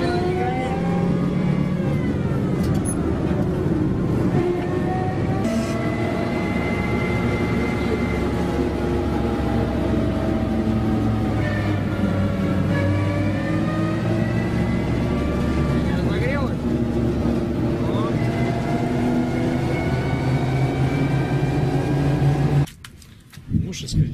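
A military vehicle drives near Debaltseve in wartime Ukraine, its engine droning steadily and close as the revs rise and fall, with voices faintly in the background before the sound cuts off abruptly at the end.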